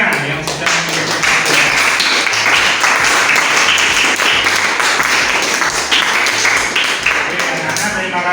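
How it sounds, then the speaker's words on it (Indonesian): Classroom applause from a group of students, dense sustained clapping close by lasting several seconds, with voices mixed in. "Mari kita beri aplaus untuk semuanya yang sudah mengikuti."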